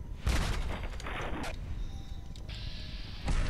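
Gunfire sounds in the video game Fallout 4 as a series of sharp, booming shots, one loud report near the start and more bursts following, with another strong hit at the end, over steady game noise.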